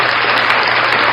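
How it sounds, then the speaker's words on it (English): Loud, dense applause from an audience honoring fathers, a continuous wash of clapping close and unbroken for a brief moment. "So I'm going to applaud you again."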